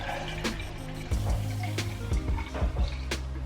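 Homemade oat milk poured from a container into a bottle, a steady liquid trickle with small gurgles and drips, close by and fairly quiet, running throughout with a few soft knocks.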